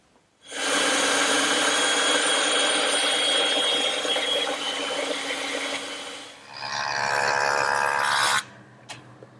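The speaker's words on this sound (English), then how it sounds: "I'll cut them over on the bandsaw" A bandsaw rips through straight wood stock along tapered layout lines, a loud steady whining buzz that holds for several seconds, dips briefly, resumes, then cuts off, leaving the blade winding down.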